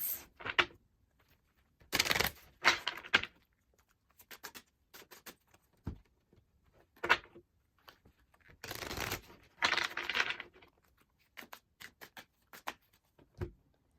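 Oracle cards are shuffled in several bursts of quick riffling and soft slaps, with quiet pauses between, close and crisp.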